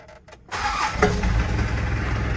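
A Mitsubishi Pajero diesel engine cranks briefly, then catches and settles into a steady, rumbling idle close by.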